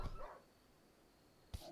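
A wounded dog in the video game Rimworld gives a short bark at the start and another brief yelp near the end, faint, with quiet background between.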